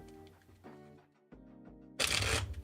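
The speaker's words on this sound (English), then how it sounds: "we shuffle." Tarot cards shuffled by hand, a soft papery riffle building to a loud, dense burst of flutter near the end, close to the listener.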